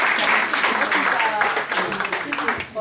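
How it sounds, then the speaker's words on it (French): Audience applause at a conference hall, a burst of dense clapping mixed with voices and chatter, moderately loud and lasting a few seconds. "On peut l'applaudir"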